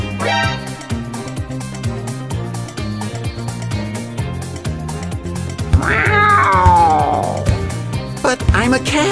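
A cartoon cat character meows loudly over busy background music and effects, with a rising, wavering yowl near the end of a brawl-style animated scene.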